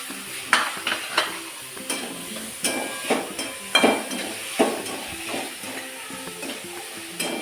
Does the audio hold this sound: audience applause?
no